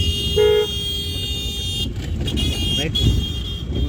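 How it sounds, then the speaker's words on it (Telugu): A car horn toots during a driving lesson, sounding as a few short honks over steady engine and road noise while an instructor talks. "హార్న్ కొట్టుకుంటూ బ్రేక్ వచ్చేయండి"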